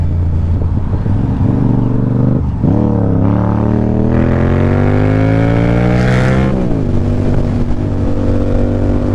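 A Yamaha R7 sport motorcycle roars at full throttle, its engine note climbing through gears with upshifts and a brief dip, loud and close from the rider's position.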